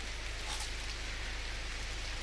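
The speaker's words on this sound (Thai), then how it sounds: "อยู่กันแบบฝนตกนะครับ" Steady rain falls without a break, a dense and even hiss that fills the whole stretch with no voices over it.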